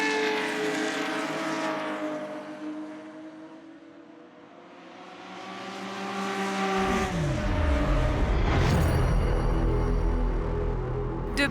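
Short-chassis Porsche 911 race cars at Montjuïc, engines droning and swelling as they approach, then a loud close pass with a broadband roar near the end.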